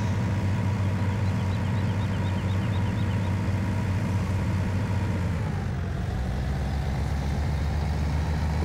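Tractor engine idling in Farming Simulator 2017: a steady, loud, low diesel rumble that holds constant throughout, with a slight shift near the end and no speech over it.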